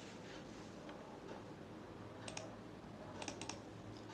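Keys tapped on a computer keyboard while entering a formula in an Excel spreadsheet, two short bursts of quiet clicks, faint against a steady background hum.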